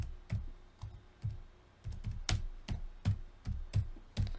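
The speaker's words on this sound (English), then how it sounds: "You will type in control panel." Keys clacking on a computer keyboard at close range, a run of separate, fairly evenly spaced taps with short gaps between them, no voices.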